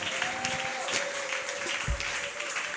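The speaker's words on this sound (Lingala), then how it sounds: "Acclame le roi de rois avec des cris de joie." A church congregation cheers and applauds during a worship service, a steady wash of clapping and crowd noise with a sustained voice carrying over it throughout.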